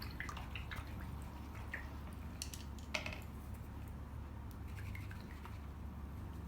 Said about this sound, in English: So now wash your brush out.